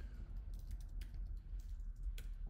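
Typing on a computer keyboard, a few soft scattered key clicks over a low steady hum, quiet and close with no talk.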